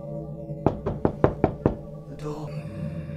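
Six loud, evenly spaced knocks on a door ring out close by, followed by a brief scraping rustle and quiet room tone.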